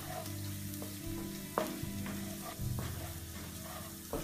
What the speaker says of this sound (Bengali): ঠান্ডা তেলে রসুনটা দিয়ে একটু লাল লাল করে ভাজি করে নিব